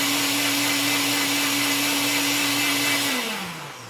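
A Nutribullet Combo blender whirs on its high speed setting, loud, close and steady with a constant motor whine, then the pitch drops as it spins down near the end.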